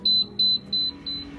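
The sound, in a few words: oven beeping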